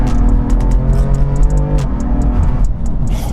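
A BMW M4 with a Bootmod3 Stage 2 tune accelerates hard, its loud engine droning and rising through the revs from inside the car, with a sharp shift partway through.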